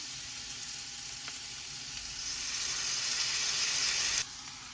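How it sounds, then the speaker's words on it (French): Potatoes, mushrooms and salmon sizzle and fry together in a single pan, a steady close hiss that grows louder partway through and then drops back abruptly near the end. "J'essaie de cuisiner tout dans une poêle pour éviter de me faire trop de vaisselle"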